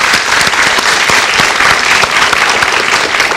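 Dense, steady audience applause for Doctor Andreas at the end of a studio talk show segment on insomnia, loud and continuous throughout.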